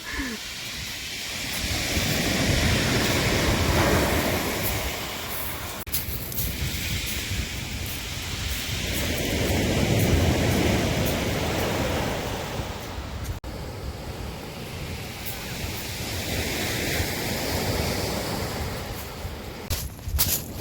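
Stormy sea waves and heavy surf roar continuously in loud, rolling surges that rise and fall in waves over about twenty seconds, with no voices heard.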